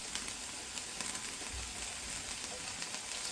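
Grated coconut fries in a pan, a faint, steady sizzle with light crackling throughout and occasional soft scraping, no voices.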